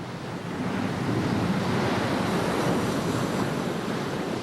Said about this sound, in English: one sees the waves breaking and the foam